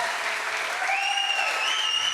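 Steady, dense applause from a political rally crowd for clean-money democracy, loud and continuous throughout with whistles rising above the clapping.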